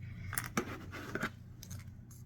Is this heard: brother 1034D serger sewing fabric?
no